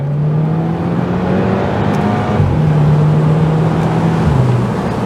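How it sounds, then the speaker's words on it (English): A 2-litre turbo car engine with a dual-clutch gearbox hums steadily at low revs, loud and close, with a small shift in pitch partway through as it settles. "now you can hear that lovely 2 litre turbo, dual clutch paired engine"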